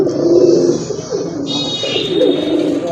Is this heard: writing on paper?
no